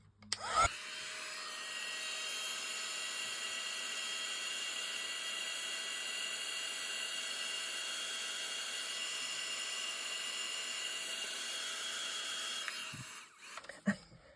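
A heat gun heat-setting embossing on a card whirs steadily with a constant high-pitched fan drone for about twelve seconds, switching on and off with brief clicks at each end.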